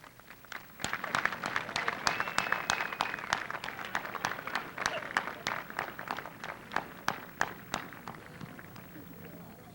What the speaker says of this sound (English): she deserves an extended applause